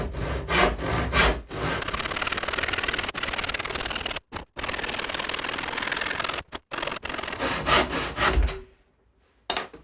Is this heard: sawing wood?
yes